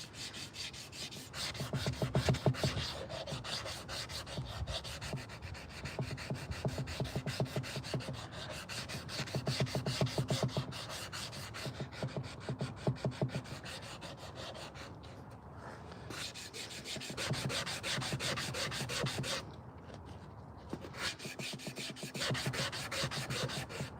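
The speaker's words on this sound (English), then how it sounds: "These sanding blocks, you can actually wash them off, and you can actually cut them." A sanding block is rubbed rapidly back and forth over a hand-carved wooden spoon, giving a dense, steady rasping scrape with brief pauses, close and fairly quiet, with no talking.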